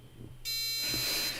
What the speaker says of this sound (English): I am unreasonably excited to use a buzzer again